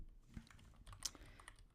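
Quick, light keystrokes on a computer keyboard, a short irregular burst of clicks heard up close and fairly faint.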